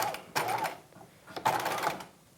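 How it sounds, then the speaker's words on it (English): A sewing machine runs in two short bursts, stitching a circle skirt seam on a 1950s-style halter dress, with a quiet pause between the mechanical whirring runs, close by. "just sew as normal until you get to the other flap"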